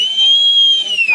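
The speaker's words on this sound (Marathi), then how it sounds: "भाई शिट्टी मार ना एक" A single sustained, shrill whistle blown at the close of a rain-season rubber-ball cricket tournament final, loud and steady for about a second before tailing off.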